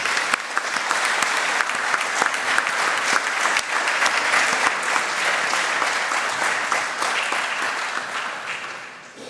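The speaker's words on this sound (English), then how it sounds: "Please join me to a round of applause for all the speakers." Sustained applause from a seated audience after a Seesof Forum 2025 panel on regional cooperation, dense and steady for several seconds before tapering off at the end.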